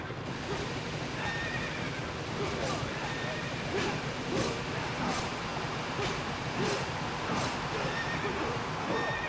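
Horses neigh and whinny repeatedly in a Nintendo racing video game, loud cries recurring every second or so over a dense, noisy game soundtrack with galloping.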